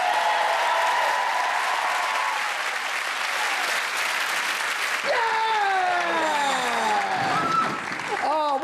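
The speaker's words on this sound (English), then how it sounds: "would you please give a huge round of applause to Bianca and Lukasz" Studio audience applause on a live Saturday-night entertainment show, loud and continuous throughout, with cheering voices and a presenter talking over it; music-like tonal sweeps enter partway through.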